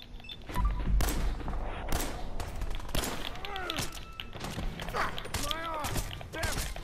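Scattered gunshots and impacts sound in the post-apocalyptic game Fallout 4. Sharp bangs and thuds arrive at irregular moments at moderate loudness, alongside other game noises and a speaking voice.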